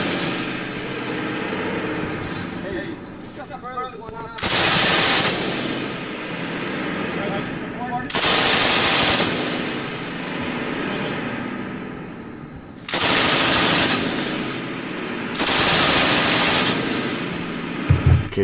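M249 machine gun fired by multiple shooters lined up at a range, loud sustained bursts of rapid automatic fire in four long strings, with talk and background noise between them.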